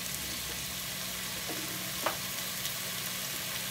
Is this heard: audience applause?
no